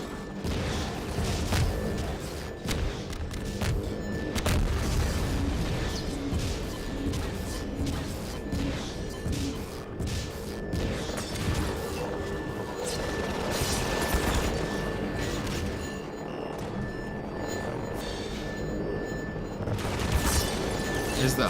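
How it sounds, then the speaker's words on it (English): An autocannon fires at dropships on a Half-Life 2 map, giving dense, continuous bursts of gunfire with crashes and booms throughout, loud and sustained, with a steady tone underneath. "Is the autocannon now targeting dropships?"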